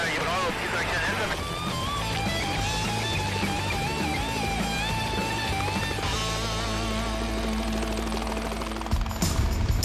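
Helicopter rotor in flight during extreme mountain flying in snow, a steady loud rotor drone with engine whine running throughout and shifting near the end, with voices heard over it.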